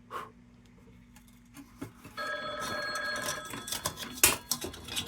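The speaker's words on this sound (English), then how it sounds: "Oh, telephone." A telephone bell rings in a continuous trill from midway onward. It sounds fairly faint and slightly distant, with a few knocks and handling noises around it and no talking.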